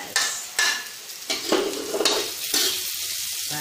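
Onion is sautéed in a pan for adobong kangkong with tofu and oyster sauce. The sizzle is moderate and close, broken by several distinct stirring scrapes and clinks from a utensil, with no voices.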